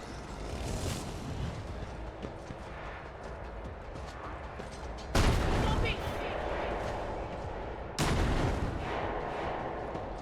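Grenade explosions in Warhammer 40k: Rogue Trader, two sharp booming blasts a few seconds apart over a rumbling battle backdrop with speech.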